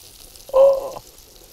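A bonefish burger patty sizzling in a hot pan, a short, close burst of frying hiss that swells and fades within about half a second.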